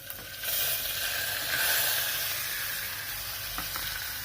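Mustard seeds, cumin and masala sizzle in hot oil with curry leaves, a close, bright frying hiss that swells after a brief quiet start and then crackles on steadily.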